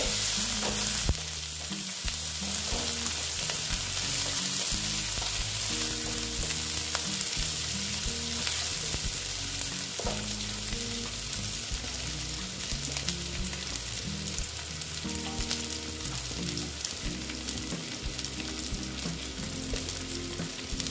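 Onions soften in a pan on low heat with a pinch of salt, sizzling steadily while a utensil scrapes and clinks, under a bed of tonal background music.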